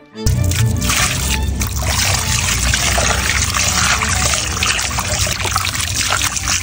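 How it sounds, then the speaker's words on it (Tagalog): Water runs in a steady, loud splashing trickle while freshly bought seafood is washed at home, with the flow continuing unbroken throughout. "hinugasan na agad namin yung mga pinamili namin ng mga seafoods"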